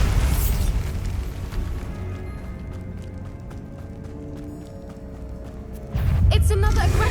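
Bombarda spell blasts in Hogwarts Legacy: a deep booming burst at the start, a quieter rumbling stretch with voices, then a second heavy explosion near the end.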